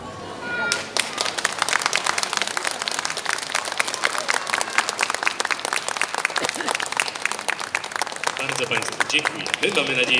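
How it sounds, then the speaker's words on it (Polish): An audience at an interactive live children's stage show about Doctor Dolittle's world claps steadily and loudly for about ten seconds, sustained applause without a break. "Wielkie brawa jeszcze raz dla naszych zwierząt, dla papuszki."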